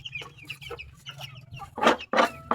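Backyard hens cluck close by in quick, irregular bursts of short clucks, with the last few calls growing louder and harsher.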